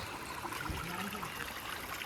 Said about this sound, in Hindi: ये देखो वाटरफॉल